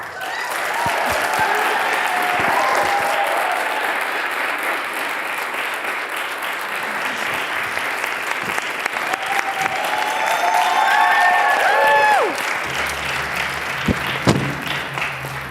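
An audience applauds to welcome a singer onto the stage at her concert, a sustained full-room clapping that swells toward the end, then fades with a few scattered claps and light murmuring.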